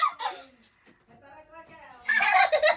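A chicken clucks close by among children's voices and laughter, with a short burst of louder, noisier sound near the end.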